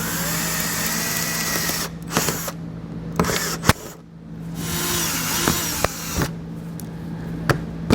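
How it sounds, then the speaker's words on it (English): Power drill bores out the centers of plastic rivets on a vehicle during a base plate install, whining in bursts with short pauses, sharp clicks and knocks between runs, close and loud with a steady low hum underneath. "take a drill bit and drill out the center of them"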